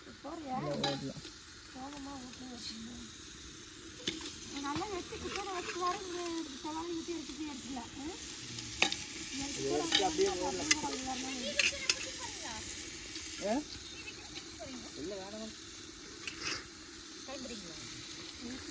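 Onions frying in a pot for biryani are stirred steadily, with a continuous soft sizzle and scraping strokes under a quiet voice.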